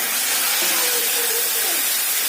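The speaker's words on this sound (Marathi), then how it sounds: "त्यामध्ये थोडंसं पाणी घालायचं म्हणजे फोडणी आपली करपणार नाही" Water poured into a hot pan of sizzling spice tempering for a bean curry gives a loud, steady hiss of steam and spitting oil that fills the whole moment, with no talk over it.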